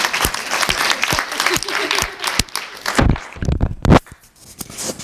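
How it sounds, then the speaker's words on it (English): An audience at a live evening show applauds. Scattered individual claps open it, then the clapping swells into fuller applause with a few louder bursts before it tapers off. "How about a little round of applause for all of you for coming here tonight?"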